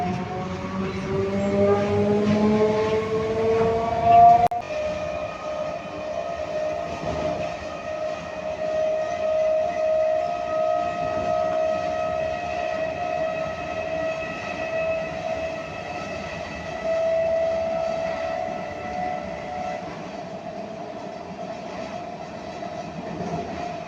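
A train pulls out of Palshi station on the Ranaghat to Bardhaman line with a loud, continuous rumble and rail clatter, plus a sustained whistle-like tone that holds and slowly fades.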